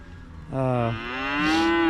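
A single cow moos twice in a field as cattle move to new forage, a short low call followed by a longer rising bellow, loud and close with no talking.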